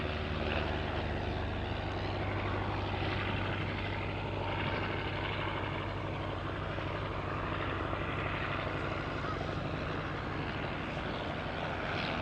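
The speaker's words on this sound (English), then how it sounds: "the Storch about to taxi past, owned by Mark Davey" A Fieseler Storch aircraft taxiing past, its propeller engine droning continuously and fairly loud with a steady low hum, no talk.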